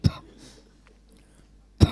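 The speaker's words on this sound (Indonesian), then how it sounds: "Aku kalau bicara sumbangnya langsung batuk." Two short, loud coughs from a speaker at a church Sunday service, one at the start and one near the end, separated by a quiet pause.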